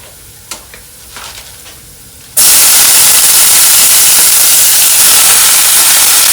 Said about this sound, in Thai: หลังจากกระเทียมเริ่มเหลืองแล้วเราเอาผักมาใส่เลยนะครับ